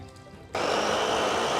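A kitchen blender mixing bulletproof coffee with grass-fed butter and MCT oil kicks on abruptly after a quiet start, then runs as a loud, steady whirring roar.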